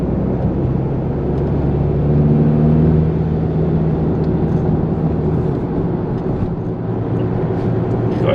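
A Ford Mondeo ST TDCi diesel with a six-speed gearbox cruises in fourth gear, giving a steady, loud, low engine drone and road rumble from inside the cabin. The note rises slightly partway through and does not change gear.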